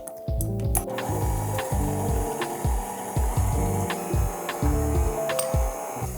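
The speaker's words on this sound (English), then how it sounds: "using a whisk, we're just gonna whisk it together" Melted butter being mixed with a whisk attachment, a close, loud mechanical whirring that beats in a regular repeating rhythm of about two pulses per second, with no talk.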